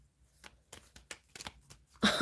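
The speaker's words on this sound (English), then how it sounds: "Someone complained that I shuffled the cards too slow." Tarot cards are shuffled by hand in a series of soft, uneven riffling taps, followed by a louder burst of card noise at the end, with no talking.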